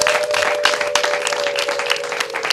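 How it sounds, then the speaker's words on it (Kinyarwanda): Wedding guests in Kigali break into sustained applause, a thick, close wash of many clapping hands with a faint steady tone running beneath it. "duhe Imana amashyi menshi n'impundu amashyi menshi n'impundu"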